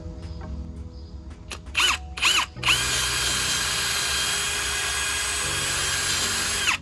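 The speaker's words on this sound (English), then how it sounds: "first I'm going to pre-drill the wood" A power drill whines steadily after a couple of short starting bursts, pre-drilling through wood at close range with a constant high-pitched hum.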